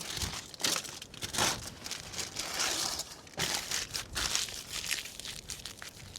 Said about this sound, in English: Now I want to wrap them at least twice in the aluminum foil.